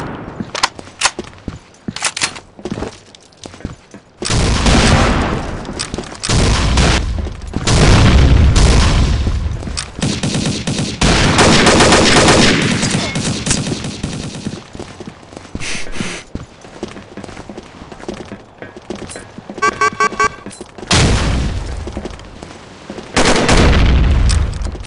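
Automatic weapon fire in the Oil Rig video game, heard as repeated loud bursts and booms scattered through a busy stretch of game noise with clattering and impacts.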